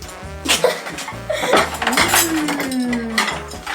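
Plates and spoons handled at a table during a meal: several close clinks and scrapes of crockery and cutlery, with a ringing metallic tone midway.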